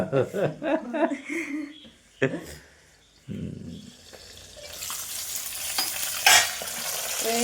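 A voice talks briefly over stirring, then loud crackling sizzle of papadam puffing up as it fries in hot oil fills the rest.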